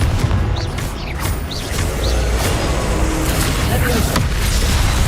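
Confringo explosion spell cast in Hogwarts Legacy, a dense, steady wash of loud blasting and crashing with whooshing bursts that fills the whole stretch without a pause.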